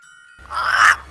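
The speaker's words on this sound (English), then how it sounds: "Crow." A crow gives a single harsh, rasping caw that rises out of near silence, close and fairly loud, then cuts off.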